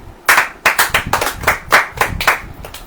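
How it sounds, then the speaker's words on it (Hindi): A few people clap sharply and close by, about nine distinct claps in an uneven rhythm, during a Hindi church sermon gathering. "ताली बजाइए"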